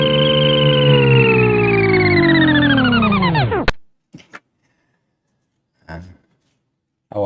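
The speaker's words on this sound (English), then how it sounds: "One of my favorites, the Jetsons scooter." A Jetsons scooter sound effect from a soundboard gives a long electronic whirring tone that slides steadily downward in pitch before stopping abruptly, followed by a few faint clicks and handling noises.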